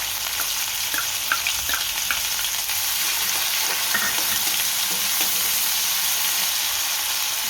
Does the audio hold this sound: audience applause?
no